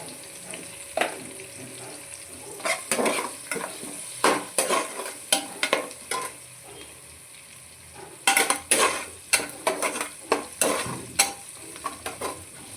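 Brinjal curry frying in a pan while a spoon stirs and scrapes it in repeated rhythmic strokes, close and clear, over a soft steady sizzle with a pause partway through.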